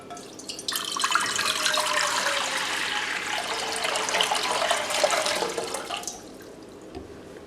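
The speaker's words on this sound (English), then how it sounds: "In a large pot, add water all the way to the top." Tap water pours steadily into a large cooking pot for about five seconds, a rushing, splashing stream that stops abruptly near the end, leaving a quiet room.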